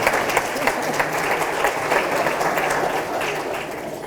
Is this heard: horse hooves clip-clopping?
no